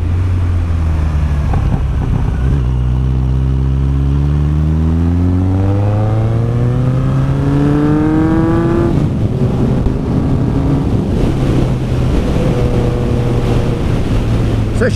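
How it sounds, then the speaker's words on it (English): A Honda CB1100 motorcycle exhaust burbles and gurgles while riding a twisty road up to a lookout. The engine note rises and falls through several gear changes under heavy, steady wind rush, loud and close, with no talking. "the exhaust burbles and gurgles and carries on"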